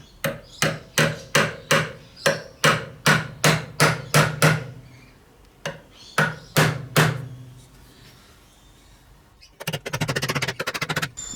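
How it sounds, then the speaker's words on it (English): A hammer drives two light gauge nails into the wooden face of a vacuum wall bracket, sounding as a fast run of about a dozen sharp, loud, evenly spaced blows, then a pause and a few more strikes, ending in a rougher rattling burst. "Then I drove 2 light gauge nails into the face of the brake."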